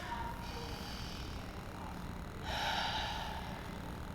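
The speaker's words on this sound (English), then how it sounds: "Two more big deep breaths." Deep, slow breaths during a hip-opening stretch, two audible breathing swells with the second louder and airier, close and alone without speech.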